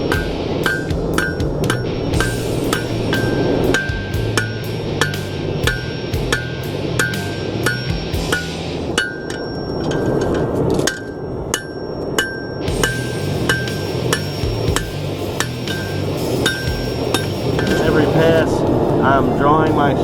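Hammer blows ring out repeatedly on a steel knife blade being forged, drawing out the shape and crushing the bevel, with loud, sharp metallic strikes in irregular bursts alongside a steady hum.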